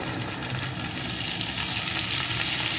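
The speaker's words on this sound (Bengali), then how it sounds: "এখন সমস্ত কিছুকে সুন্দর করে কষিয়ে নেব।" Cumin, ginger paste and turmeric sautéing for cabbage curry, a loud, dense, continuous sizzle and crackle of frying spices in oil, steady for the whole stretch with no talking.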